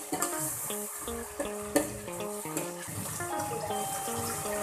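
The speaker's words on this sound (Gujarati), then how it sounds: "ડુંગળીને આપણે એક મિનિટ માટે ચડવા દઈએ" Onions fry and sizzle in a pot for a Surati vegetable stew, a steady crackling hiss with occasional stirring clinks, while soft background music plays.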